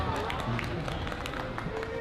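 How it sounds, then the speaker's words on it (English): An audience at a Tahiti fete dance competition applauds a dancer, a steady wash of clapping and crowd noise with voices mixed in throughout. "Wow, look at the applause you get."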